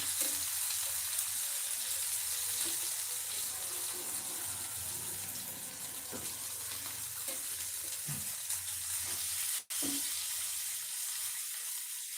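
Yam pieces fry in oil with chana dal and moong dal, giving a continuous close sizzle with occasional stirring scrapes and no talk over it.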